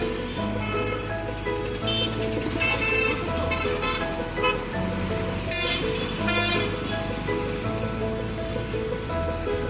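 Steady city traffic rumbles around a busy bus stand in Kurnool, with repeated car and vehicle horns honking near and far through the whole stretch.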